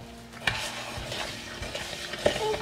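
A fork scrapes and clinks against a bowl while stirring cookie batter sweetened with sugar, with a few irregular taps and soft swishing strokes close by.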